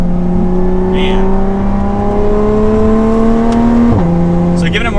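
Lotus Evora 400 sports car accelerating from inside the cabin, a steady loud engine drone climbing in pitch with a brief dip near four seconds as it shifts, continuous throughout.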